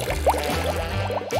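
Water pours from a penguin-shaped dispenser into a glass, a continuous gurgling fill with bubbly splashes. The sound is close and steady, and no one talks over it.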